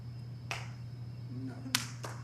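Sharp hand claps during a live-streamed visual search demonstration, three quick strikes spaced across about two seconds, fairly faint over a steady low hum.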